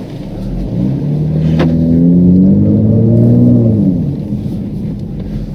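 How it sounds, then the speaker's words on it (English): Volvo V60 Polestar T6 with a loud open exhaust while driving in sport mode, a deep booming drone swelling as the engine pulls, then easing back, heard from inside the car. "that exhaust is always there. It is very, very loud"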